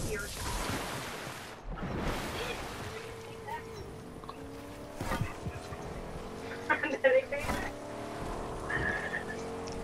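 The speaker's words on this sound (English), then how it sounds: "let's get in this car and go help them" A car engine revs and hums in the video game Fortnite as the vehicle drives off, with bursts of tire noise and scattered clatter; people talk over it.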